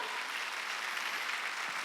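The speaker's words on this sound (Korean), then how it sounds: "여러분을 박수 세게 치라고요. 더 세게 치라고." Church congregation during a Sunday worship service claps hard, producing a dense, continuous wash of many hands that holds steady and fairly distant, with no talk.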